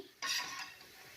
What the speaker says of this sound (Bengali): বড়িটা তুলে নিচ্ছি